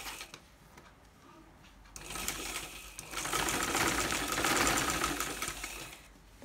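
Sewing machine stitching the neckline band of a kameez, running in a steady whirring burst that starts softly, grows louder midway and holds before stopping, close and alone.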